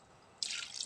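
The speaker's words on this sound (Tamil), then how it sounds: "ஒரு டம்ளர் தண்ணி ஊற்றிட்டேன்." Water from a tumbler pours into a pressure cooker in a home kitchen: a short, bright splashing gush that starts suddenly partway through and runs for about half a second, close and moderately loud after near silence.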